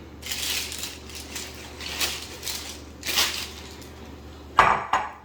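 Shrimp go into a big pot for a crab boil, with soft rustling and shuffling handling sounds, then a couple of sharp, close metallic clanks of the pot near the end.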